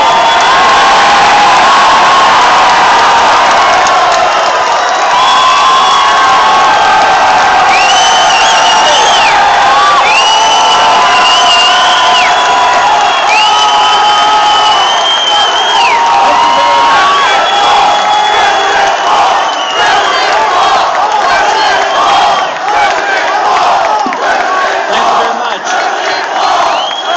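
A large political rally crowd welcoming Congressman Ron Paul at a 2012 Kansas pre-caucus event roars with sustained cheering, whoops and applause, loud and continuous throughout with shouts rising above the din.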